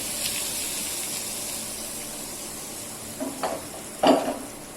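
Hot tempering with curry leaves poured over fresh coconut chutney, giving a steady background hiss and then two or three short, louder sizzling bursts near the end, close by.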